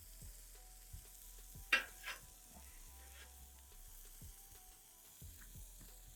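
Smash burgers fry on a Pit Boss griddle with a soft, steady sizzle, broken by a few faint scrapes and clicks of a spatula.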